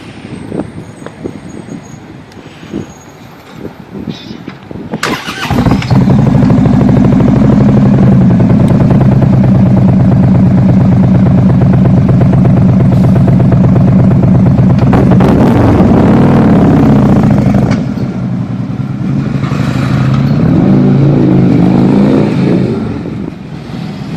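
A car engine revving hard through CFR exhaust mufflers: a loud, sustained, deep roar that swells in and holds for long stretches, briefly drops and then surges again, close by and without talk.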